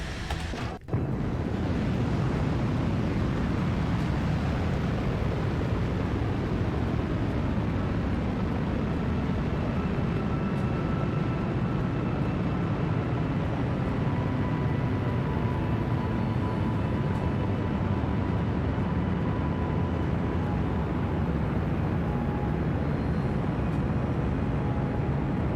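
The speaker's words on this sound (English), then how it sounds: "The engine sound when it switched over." Spacecraft engine in the video game Kerbal Space Program 2, a dense, continuous rumbling roar that starts abruptly after a short sharp transient and holds steady and loud for the rest, with no voices.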